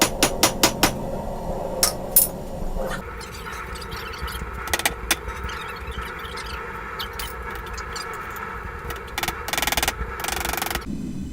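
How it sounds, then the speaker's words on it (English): A handful of sharp metallic hammer strikes ring out early while rough-shaping a ram's head knife, followed by a steady mechanical hum with a few more scattered bangs later. "Smack that hammer."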